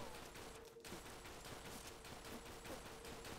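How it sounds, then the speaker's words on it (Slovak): Sustained machine gun fire in the Call of Duty: World at War Nazi Zombies video game, a dense rapid burst of shots with one brief gap, loud and close throughout. "tato je gulomet"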